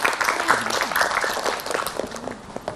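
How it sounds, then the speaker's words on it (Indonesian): Steady applause from a crowd at an Islamic religious lecture, with a voice faintly audible underneath the clapping. "Tepuk tangan buat Ustadz Abi Maki."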